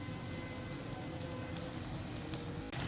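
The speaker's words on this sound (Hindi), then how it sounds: "अब इसमें हम चिकन नगेट्स ऐड करेंगे और अब आपने इनको फ्राई करना है" Chicken nuggets frying in hot oil in a pan, giving a soft, steady crackling sizzle that runs evenly throughout, quiet and close, with a small clink near the end.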